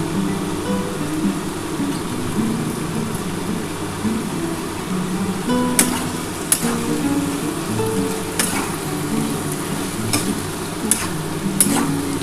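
Spices sautéing in a pan for a bottle gourd greens and hilsa fish head dish make a continuous sizzle, with occasional sharp scrapes and taps of a stirring spoon, steady and close throughout.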